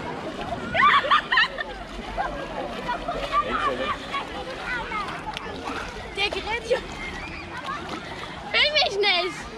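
People wade into a cool lake at Dechsendorfer Weiher, water splashing and sloshing around their legs in repeated bursts, with a loud burst near the end, while several voices talk and shout over the splashing.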